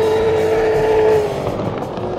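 A Mercury Racing 360 APX V8 competition outboard engine screams at high revs, a loud sustained whine with a steady tone that drops and fades partway through.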